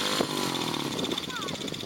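A quad bike's engine drones close and steady as the throttle is worked, with a buzzing tone and voices talking over it throughout.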